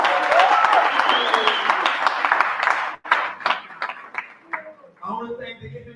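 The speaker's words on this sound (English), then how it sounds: "give yourselves a round of applause for having been here" An audience at an event applauds itself, dense clapping that thins into scattered individual claps before a voice starts talking at the end.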